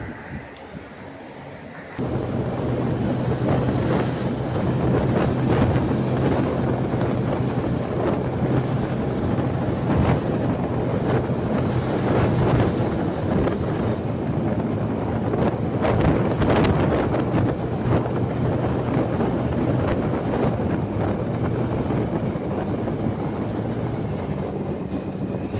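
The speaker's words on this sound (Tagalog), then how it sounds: "malakas ang hangin eh" Heavy wind blasts the microphone in a loud, continuous roar that starts abruptly after a quieter opening and holds for the rest of the clip.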